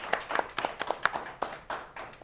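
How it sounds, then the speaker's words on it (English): Small school audience giving a round of applause for a facilitator, with sparse, distinct individual claps in an uneven rhythm, fairly close and moderately quiet. "A warm round of applause for Debbie Pellington."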